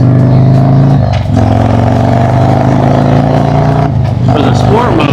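A Harley motorcycle engine runs hard on a dyno, a loud, close, steady drone with gear-like harmonics, dipping briefly twice as the throttle changes, while someone talks over it.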